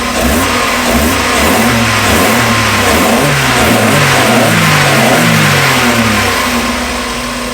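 A Mazda Miata 1.8 engine with its stock intake revs repeatedly from idle in several quick, loud bursts up close.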